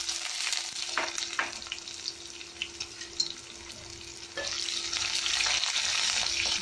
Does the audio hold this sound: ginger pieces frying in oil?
yes